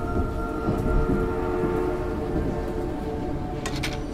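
Steady rumbling train in the Choo Choo Charles video game, moving forward with a continuous low chugging drone and a few faint higher clanks near the end, no talk.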